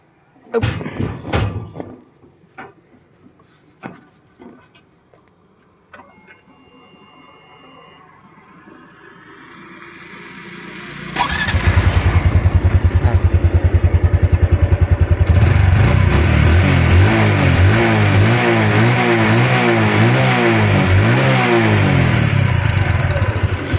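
A Honda Wave kick-start motorcycle in original stock condition starts after some clattering handling noises, then its engine idles and revs steadily and loudly, close by, for the second half, with no talk over it.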